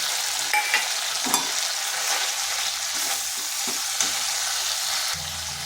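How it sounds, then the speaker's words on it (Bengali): Ground cumin, coriander, chilli and turmeric stir-fry in a pan with a splash of water for a vegetarian potato and pointed gourd kalia, giving a continuous close sizzle with a few utensil scrapes and taps. "এটাকে বেশ ভালো করে কষিয়ে নিচ্ছি।"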